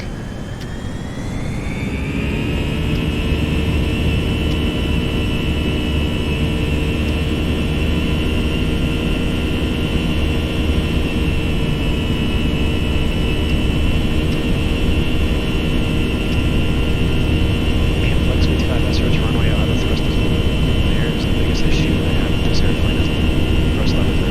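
Airbus A320 jet engines in a flight simulator spooling up for takeoff, a rising whine that climbs over the first few seconds and then holds as a loud, steady roar with a sustained high tone.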